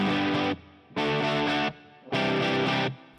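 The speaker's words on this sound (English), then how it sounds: "And then let's turn on the fuzz." Electric guitar played through a Nembrini fuzz pedal, three loud, thick distorted chords strummed and held in turn with short gaps between them, no talking.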